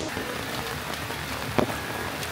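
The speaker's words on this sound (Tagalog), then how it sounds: "umuulan pa rin" Steady rain falls on a beach campsite on Samal Island during a storm, a dense even patter of drops on surfaces with one brief louder knock partway through.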